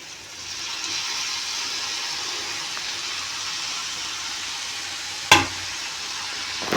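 Chopped tomatoes sizzle and fry steadily in a pan for cauliflower and potato curry, a constant hiss broken by one sharp clatter near the end, with no talking.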